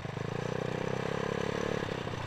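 A Yamaha Nouvo motorcycle runs while being ridden, its fairly faint engine giving a steady buzzing hum with a slight rise and fall, and no talk over it.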